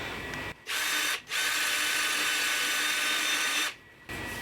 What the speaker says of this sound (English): So let me get to sanding this one a little bit, and then we'll prep the rest.